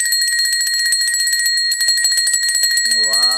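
A bell rung over and over gives a bright, sustained ringing that carries through the whole stretch, with voices chatting underneath and a short sung or spoken tone near the end.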